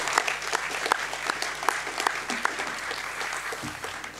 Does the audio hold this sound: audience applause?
yes